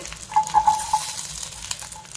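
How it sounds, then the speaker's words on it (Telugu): Green chillies frying in hot oil in a home kitchen, a soft steady sizzle with faint crackles, no talking. "పచ్చిమిర్చి మంచిగా నూనెలో వే వేయించుకోవాలండి"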